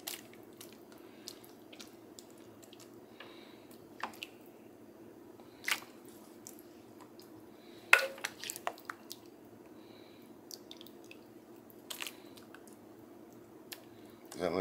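Pepper steak with noodles ladled into a freeze dryer tray, giving soft, wet squishes and a few light clicks of the ladle against the tray, quiet and close, with occasional sharper taps.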